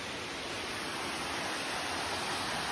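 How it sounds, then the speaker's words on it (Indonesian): The third of several small waterfalls with low water flow near a clear pool in a village in South Aceh, heard as a faint, steady broadband rush of falling water with no voices. "Ini air terjun yang ketiga, nggak kalah cantik dengan air terjun yang"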